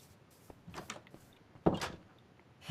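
A wooden door swinging shut in the block-building game Minecraft, heard as a sharp, close thud with a short clattering tail, following a few fainter soft knocks and shuffles.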